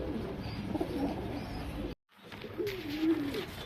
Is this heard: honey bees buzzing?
no